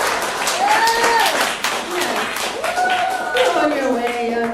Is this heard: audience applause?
yes